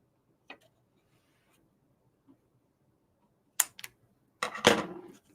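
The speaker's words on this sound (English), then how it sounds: "I can hear the computer clacking." Computer keyboard clacking faintly in a quiet room: a few scattered soft taps, then a short cluster of sharper clacks near the end.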